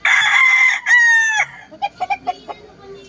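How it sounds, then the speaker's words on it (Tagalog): A rooster crows loudly up close, a long strained call, followed by a run of short rhythmic clucks. "Ang gandang manok din."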